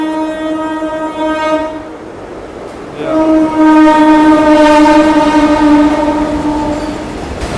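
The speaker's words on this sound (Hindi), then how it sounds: "गुड्स ट्रेन लग रही है मुझे तो।" A goods train passes through Jalgaon railway station, sounding a loud sustained two-part horn that breaks off and then resumes, over a rolling rumble of wheels.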